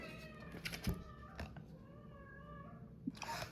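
Cats meow and yowl indoors, with a drawn-out wailing caterwaul between short sharp cries and a few soft knocks, heard fairly faint and without any talking.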